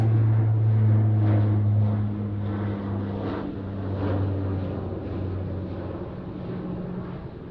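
A QantasLink airliner departs Sydney Airport: a steady, loud turboprop drone with strong low tonal hum, gradually easing in level over several seconds, no voices.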